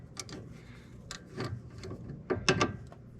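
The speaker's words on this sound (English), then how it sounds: "my tie rod's going to go on, and I'm going to rotate it 24 times" A Porsche 996 tie rod is turned onto its fitting by hand, giving a series of irregular metallic clicks and ratchet-like ticks that come close and fairly quiet, with a few louder clatters near the end.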